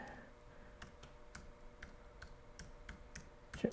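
Quiet, sparse key taps on a computer keyboard as a folder name is typed, a dozen evenly spaced clicks over a low hum with no voices.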